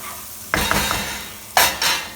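Brussels sprouts sautéing in a pan, stirred with a utensil that scrapes and clinks against the metal twice under a soft steady sizzle.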